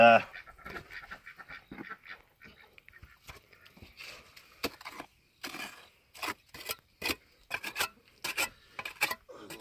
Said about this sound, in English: some more scraping on this.